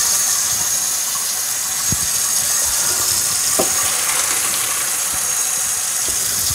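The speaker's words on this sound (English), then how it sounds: "Now I'm going to drain over the sink in cold water." Cold tap water running over macaroni noodles draining in a kitchen sink, a loud, steady rushing gush with a few faint clunks and splashes beneath it.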